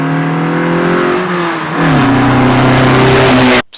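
A 1985 Lotus Excel with a 2.2 liter 4-cylinder engine pulls hard under acceleration, its loud, close engine note climbing steadily through a gear with a brief dip at the shift.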